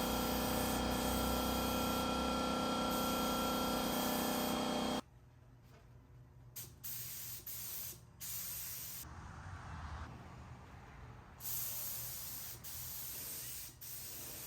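A sprayer applies a matte polyacrylic top coat to bathroom vanity doors, giving steady close hissing bursts that switch on and off, with a loud continuous run at first and then several shorter sprays separated by pauses.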